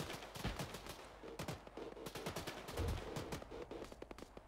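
Gunfire in the military video game ArmA 3, a series of sharp shots and bursts scattered across a few seconds, fairly faint and distant, with no talking.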